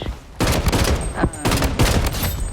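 Rapid bursts of rifle fire from a QBZ in the video game Bloodstrike, shooting at a mannequin: three loud, close volleys of quick shots separated by short pauses.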